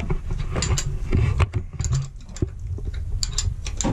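Oil filter canister being unscrewed on a narrowboat engine, with close, irregular metallic clicks, ticks and scraping handling noises and no talking.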